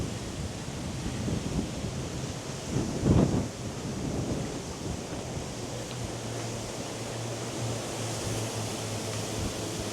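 Strong wind blasts across an exposed coastal clifftop path above Ventnor Bay on the Isle of Wight, a steady broadband roar buffeting the microphone, with a brief heavier gust near the start and no talking.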